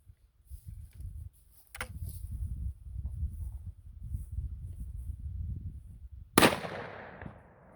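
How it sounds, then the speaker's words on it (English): A 454 Casull revolver firing a 300-grain hard cast load outdoors: one sharp, loud report near the end with a ringing decay, after several seconds of low rumbling handling noise and a faint click. "Now we're going to shoot one of my loads"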